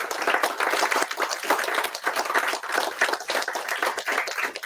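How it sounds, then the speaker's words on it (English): An audience at a bookstore author event applauds steadily in a room, dense overlapping clapping throughout with no talk over it. "if we can give him a round of applause"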